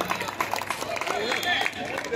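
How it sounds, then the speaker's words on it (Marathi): An audience at a kabaddi match between Ahmednagar district and Mumbai suburbs clapping at the start of play, a brief burst of crowd applause close by that mixes with a voice over a public address. "एकदा जोरदार टाळ्या वाजवी आणि घोषित करूया की हा सामना सुरू झाला"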